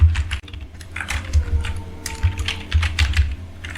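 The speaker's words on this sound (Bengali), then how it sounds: "বুট মেনু কি টাইপ করে সার্চ দিলাম।" Someone types on a computer keyboard close by, in quick irregular bursts of clicking keys with short pauses between them. A low hum runs underneath.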